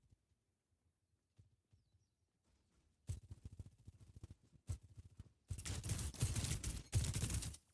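An automated turret fires in an Overwatch match. Faint scattered taps give way to sudden rapid bursts of automatic fire, and the shooting grows denser and louder toward the end with no voices over it.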